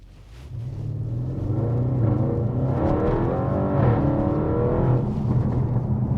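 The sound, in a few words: Revo Stage 2 Audi RS7 with Milltek exhaust accelerating 0-60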